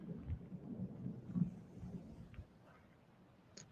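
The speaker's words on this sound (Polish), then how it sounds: "To mimo, że idzie burza, to też to pięknie wygląda. Tak, burze. Idą grzmoty." Low, rumbling thunder from an approaching storm rolls in around the Gaustatoppen mountain area in Norway. It is faint and distant, swelling briefly before fading to quiet, with no talking.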